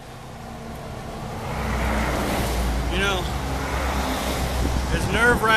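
Heavy trucks roaring past close by on a roadside in Nantahala, a loud rumbling wash that swells after the first two seconds and stays strong, with wind buffeting throughout.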